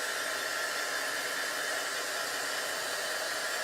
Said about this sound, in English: we're gonna take the hair dryer and we're gonna just dry it a little bit because we're gonna layer this